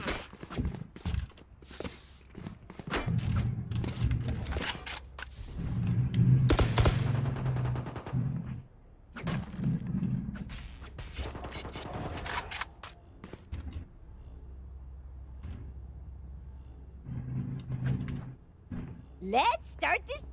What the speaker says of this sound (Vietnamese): Nó cầm AK bắn.